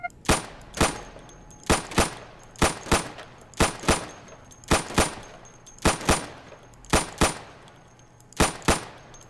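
Gunfire in the game Insurgency, shooting at practice targets: sharp, loud shots arriving mostly in quick pairs at a steady pace, about sixteen in all over the stretch, with no talk between them.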